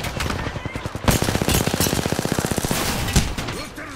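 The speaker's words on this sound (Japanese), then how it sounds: "撃ってるぞ。" Rapid automatic gunfire in a video game, a fast steady rattle of shots lasting a couple of seconds, loud and close, with an occasional voice under the shooting.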